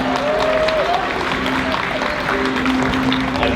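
An audience at a casino and magic night anniversary celebration claps in dense, steady applause throughout, with a few voices in the crowd under it.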